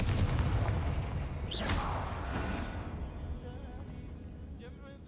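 Confringo explosive spells blast during combat in Hogwarts Legacy, loud booming bursts with whooshing over a continuous heavy rumble that slowly fades.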